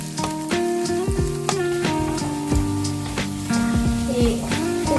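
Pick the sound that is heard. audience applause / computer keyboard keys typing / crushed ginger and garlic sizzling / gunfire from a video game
crushed ginger and garlic sizzling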